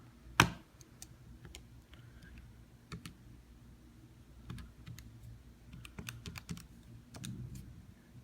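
Scattered, quiet clicks of fingers pressing calculator keys, an irregular series of soft taps with one sharper press at the start, heard close up in a quiet room.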